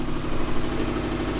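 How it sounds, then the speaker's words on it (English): Rebuilt Series Grey Subaru STI engine idling with a small exhaust leak at a gasket, a steady close-up mid-low thrum with a fast, even pulsing ticking through it, loud and unbroken with no talking. "we do have one really small exhaust leak"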